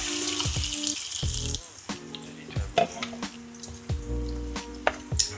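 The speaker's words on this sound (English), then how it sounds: "you want to add enough water to cover them and the pork" Water runs and splashes into a pot holding belly pork and garlic, a gurgling pour broken by clunks and knocks of the pot, with a low tonal hum underneath and no talking.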